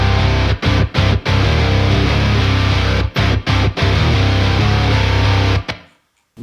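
Thick, heavily compressed distorted electric guitars in a rock mix drive a loud, dense wall of sound, cutting out in short rhythmic stops before ending abruptly.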